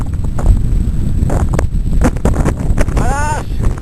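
Wind roars past a mountain biker during a fast downhill run at roughly 75 km/h, a loud, gusting, buffeting rush close to the microphone, with rattling bumps and a voice calling out briefly.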